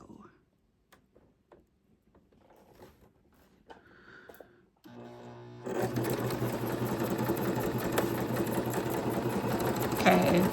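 A sewing machine runs a decorative stitch on junk journal tags, a steady close rattling hum that starts after some quiet handling noises and softer motor whirs and then keeps running to the end.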